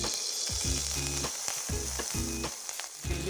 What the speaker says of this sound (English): I am adding mustard oil